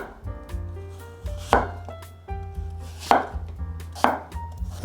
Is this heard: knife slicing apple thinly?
yes